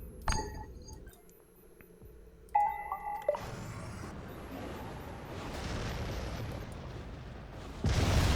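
A missile strike in the ICBM strategic missile defence video game: a sudden blast with a rumbling, crackling tail that lingers for several seconds over faint electronic game tones, with a second impact near the end.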